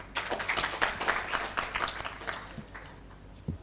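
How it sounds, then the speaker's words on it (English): A university audience at a student guild executive swearing-in claps for the outgoing executive, a scattered, moderately loud patter that thins out after a few seconds, with a few isolated claps near the end. "Let's clap for them"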